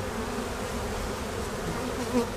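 Honey bees buzz in a dense, steady drone at an open hive brimming with honey and nectar, close and continuous throughout.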